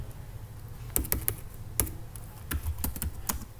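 Java code is typed on a computer keyboard in quick, irregular bursts of crisp, close key clicks over a quiet background, with no voices.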